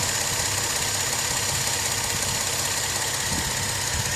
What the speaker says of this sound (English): I don't know if you can hear the motor running. It's running very quietly, very smoothly.